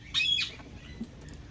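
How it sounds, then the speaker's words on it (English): African grey parrot gives one short, loud, raspy squawk nearby, followed by a faint chirp and quiet room noise. "For example, my African gray Zeus"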